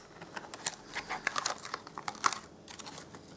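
Paper crinkles and snips as a leaf outline is cut out by hand from cardstock images for a card, a run of soft irregular crackles and rustles close by with no talking.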